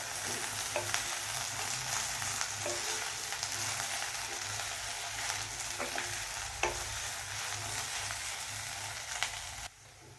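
Okra (ladies finger) with grated coconut sautéing on medium flame for Kerala-style thoran, a continuous close sizzle broken by frequent spoon stirs and light scraping, ending abruptly.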